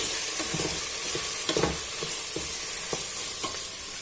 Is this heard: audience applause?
no